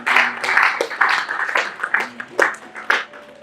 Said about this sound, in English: I want you to give yourself another big round of applause.